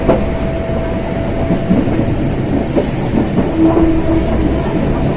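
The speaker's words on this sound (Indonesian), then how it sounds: "Rupanya LRT akan lewat di sini." A light rail train rumbles past nearby at night near Tanjung Priok station, Jakarta, with rhythmic clickety-clack of wheels and a faint squeal, loud and steady throughout.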